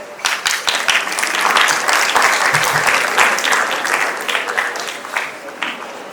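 An audience at a national debate and awards event claps in a dense burst of applause that swells, then gradually thins out over about six seconds.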